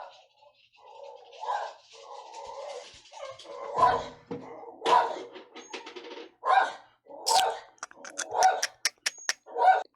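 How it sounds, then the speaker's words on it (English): Several dogs bark, yip and whimper in a quiet room, starting with soft whines and building to sharp, repeated barks that come quick and close together near the end. "Dogs."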